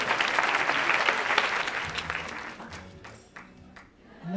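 Audience in a cinema hall applauds at a film premiere, a broad wash of clapping that fills the room and then thins out into a few scattered claps.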